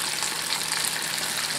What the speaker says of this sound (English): So go ahead and deep fry those and let those babies fry up.